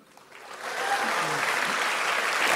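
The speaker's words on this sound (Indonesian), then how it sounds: "bagus, tepuk tangan dulu." An audience breaks into applause that swells within the first second and holds as a dense, steady clatter of clapping, loud and close.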